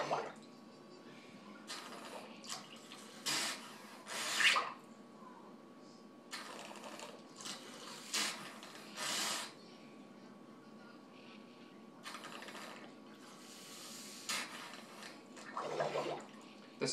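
Hot tap water is squirted again and again through an e-cigarette cartomizer with a turkey baster, giving short, repeated bursts of spraying liquid over a quiet background.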